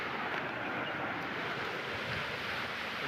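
Irrigation canal water in the Deesa–Patan area of Gujarat rushes past outdoors in a constant broadband roar, with some wind noise on the microphone and no talking.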